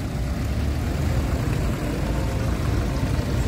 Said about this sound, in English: Some beautiful old tractors there.